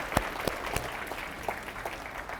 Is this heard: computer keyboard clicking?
no